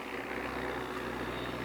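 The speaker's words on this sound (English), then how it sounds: "I'm gonna wait for the plane to pass over." A propeller airplane drones overhead outdoors in late daylight, a steady, moderately loud engine hum holding level throughout with no talk over it.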